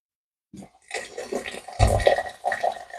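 Water splashes and pours out of cooked escarole in short bursts, a close draining rush that comes in uneven spurts with brief pauses.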